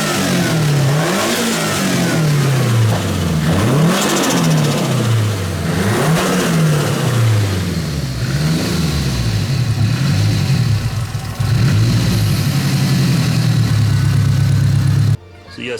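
Nissan Silvia S14 Zenki turbocharged engine revs up and down in several repeated rising and falling sweeps, then settles into a steady, loud idle, close to the car.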